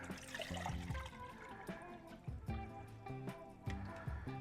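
Rinseless wash concentrate poured from a quart container into a bucket, a faint, close glugging and splashing of liquid with uneven bubbly surges.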